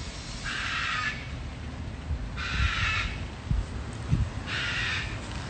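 A bird gives three harsh, drawn-out calls spaced a couple of seconds apart, fairly close and loud over a steady indoor hum with a few low thumps.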